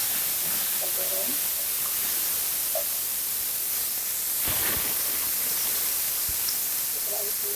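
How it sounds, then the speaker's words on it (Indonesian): Ground chili paste and shrimp paste frying in hot oil, giving a constant loud hiss and sizzle with a few faint pops and clicks. Faint voices sound briefly in the background. "Pertama-tama sekali kita akan menggoreng cabai giling."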